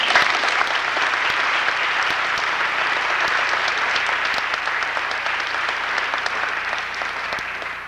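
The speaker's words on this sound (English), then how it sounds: "Let's give them a hand." An audience at an auditorium dedication claps steadily, a dense wash of many hands filling the hall at an even loudness for several seconds before easing slightly toward the end.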